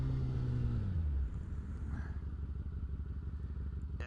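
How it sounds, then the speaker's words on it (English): A sport bike engine idles close by in a low, steady rumble, with a brief dip in pitch early on and faint mechanical clatter over it. "because they're sport bikes. They're meant to go fast, right?"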